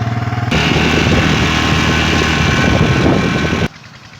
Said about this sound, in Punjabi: ਜਿੱਥੇ ਟਰੈਕਟਰ ਆਪਣਾ ਚੱਲਦਾ ਪਿਆ